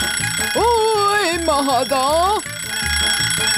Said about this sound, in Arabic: إنه المنبه.